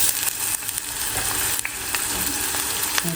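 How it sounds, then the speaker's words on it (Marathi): Finely chopped onion frying in hot oil in a cooking pot for a dried Bombay duck dish: a steady, loud, dense sizzle with faint crackles and stirring throughout, no talking. "तेल गरम झालं कांदा टाकूया आपण"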